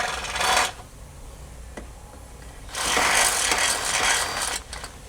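A drill steps pilot holes up to 17/32 inch for rivet nuts in a Ranger 1500 XD roll cage, with two loud grinding bursts separated by a quieter gap, close by.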